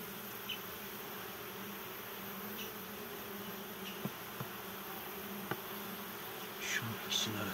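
Honeybees hum in a steady, close buzz around an open hive during frame work, a continuous drone with a few faint knocks and a slightly louder pass near the end.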